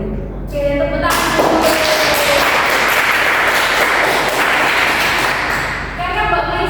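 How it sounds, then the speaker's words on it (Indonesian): Audience applause at an Indonesian talk session, a loud wash of clapping that swells in after a brief pause and keeps going for several seconds before tailing off. "Oke, tepuk tangan."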